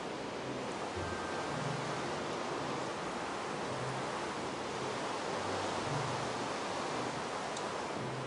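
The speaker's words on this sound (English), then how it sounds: "Let's get rid of this rain" Rain in a Minecraft modpack game, a steady broadband hiss of falling rain that stays constant and fairly loud throughout with no talking.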